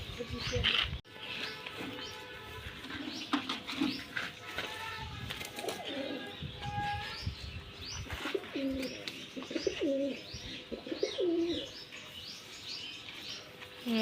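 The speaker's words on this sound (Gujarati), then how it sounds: "હવે આપણા કબૂતર છે બધા ખુલી ગયા છે." Pigeons coo repeatedly in low, throaty bursts, mixed with scattered chirps and flapping, with faint voices and outdoor noise in the background.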